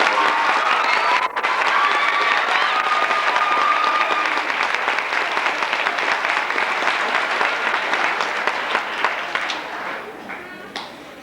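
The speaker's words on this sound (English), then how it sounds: "I would like for us to applaud each other for some marvelous work all the way around today" A crowd at a 1990 band gathering in Colorado Springs claps loudly and steadily for over ten seconds, with some voices and whistles mixed in early on, before the applause thins and fades toward the end.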